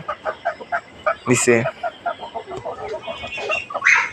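Hens cluck in short, repeated bursts, close by in a backyard poultry flock, with one louder squawk midway and more clucks trailing off; no talk.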